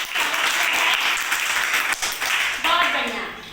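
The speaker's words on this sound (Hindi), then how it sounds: "जोरदार ताली।" Loud, continuous applause from an audience at a children's quiz game modelled on a champion contest, dense clapping sustained for several seconds with a brief dip near the middle.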